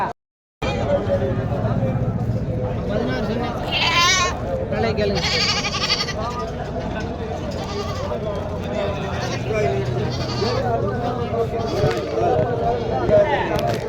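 Several goats bleat repeatedly at a morning market where mother goats and their kids are sold, the calls near and overlapping amid a busy murmur of people talking.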